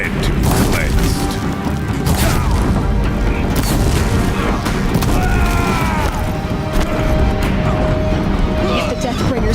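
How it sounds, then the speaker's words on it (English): Deathbringer war machines in Horizon Zero Dawn fire continuously with booming explosions and clanking mechanical noise, loud and dense throughout, with voices talking over the battle. "If the Deathbringers keep firing, this bridge will go."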